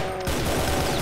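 Rapid automatic gunfire from the video game Brutal Doom, a loud continuous burst that begins abruptly after a brief quiet moment and keeps going to the end, with no voices.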